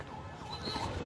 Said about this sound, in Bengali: ফায়ার সার্ভিস কর্মীরা তাদের গাড়ি সামনের দিকে দ্রুত নিয়ে যাচ্ছেন